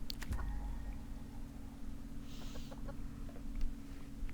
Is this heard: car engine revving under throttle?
no